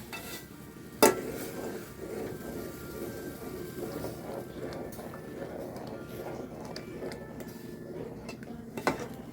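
A spoon stirs thick porridge in a pot with soft, steady scraping and bubbling, a sharp clink near the start and another near the end.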